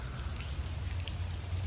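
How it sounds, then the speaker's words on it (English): Steady rain falls outdoors in a dense, even patter close by, with no voices over it. "I'm out here talking in the rain."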